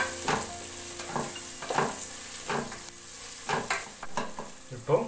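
Veg biryani with mint being stirred in a pot, a spoon scraping repeatedly over a steady frying sizzle, the strokes falling in an uneven rhythm close by with no talk.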